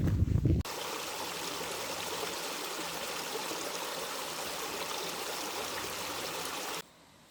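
A river flowing beside a rail trail between Cambridge and Paris, Canada, a steady rushing stream of water that holds constant, after a short burst of louder handling noise at the start, then cuts off abruptly near the end.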